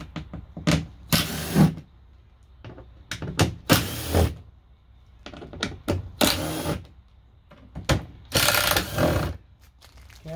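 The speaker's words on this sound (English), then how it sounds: "So you put that on the drill head. I'm just going to unscrew them." A power drill backs out panel screws on a RAM 1500 in short, close bursts of whirring and ratcheting, with pauses and handling clicks between each screw and no talking.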